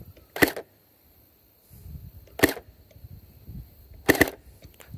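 Three sharp toy gun shots, likely airsoft rounds fired past a chronograph, crack out about two seconds apart, each a loud dry snap with no talking between them.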